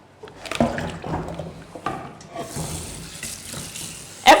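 Water runs and splashes into a bowl or sink in a kitchen, with intermittent gushes and clatters over a few seconds and a louder splash at the end, brief speech in the background.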